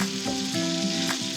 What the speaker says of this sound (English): as the bacon finishes frying